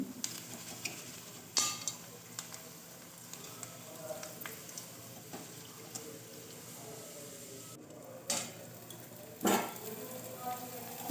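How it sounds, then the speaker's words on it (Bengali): Gobindobhog rice dry-roasting in a pan, heard as a quiet, close scraping and stirring with sporadic clinks and taps from the utensil and a faint crackle between them. "দেখো আমি চালটা কীভাবে ভেজে নিই"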